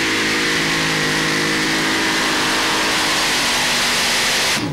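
A pulling tractor's engine roars at full throttle during a 1996 European tractor pulling run in Bernay, France, loud and continuous with a steady, dense roar that cuts off abruptly at the end.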